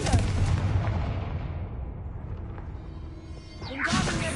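A Confringo fire spell cast in Hogwarts Legacy goes off as a loud, booming blast that rolls into a fading rumble, followed by another sharp whooshing burst near the end.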